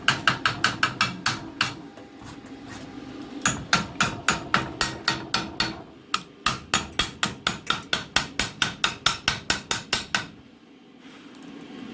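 Rapid metallic slag hammer strikes chipping weld slag, coming in quick bursts of sharp ringing taps with short pauses between runs.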